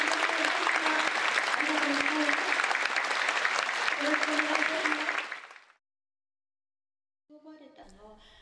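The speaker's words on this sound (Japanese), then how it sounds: "拍手でお迎えください。" An audience at a summer lecture applauds to welcome a novelist, dense steady clapping for about five seconds that fades out, then silence before a voice begins speaking.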